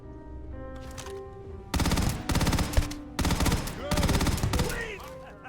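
Rapid automatic gunfire in the sci-fi video game Starfield, three or four loud sustained bursts of rattling shots in quick succession over a faint musical background.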